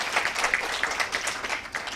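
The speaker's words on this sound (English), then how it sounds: "so please clap for yourself also" A summit audience of HR professionals applauds steadily, a dense wash of many hands clapping at an even level throughout with no voices on top.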